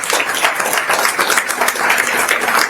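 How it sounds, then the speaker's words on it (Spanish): A church congregation applauding during a Spanish-language worship service: dense, steady clapping from many hands filling the whole stretch without pause, fairly loud and close. "Bríndale fuerte palmas a Él."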